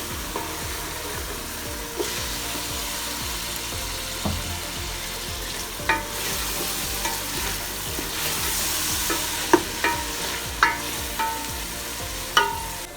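Green chilies dropped into a hot pan with tomatoes for a ridge gourd and chana dal curry, frying with a steady sizzle while a spoon stirs and scrapes in repeated sharp clicks, no talking.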